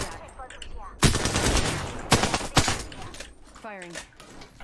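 Gunfire in Apex Legends: several loud, abrupt bursts of shots, some in quick rapid-fire runs, with a chirping electronic effect near the end and a voice talking over the shooting.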